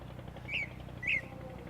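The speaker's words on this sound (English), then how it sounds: "The birds." Birds chirp at sunrise in Shanghai, two short clear tweets about half a second apart, fairly faint over a low outdoor city hum.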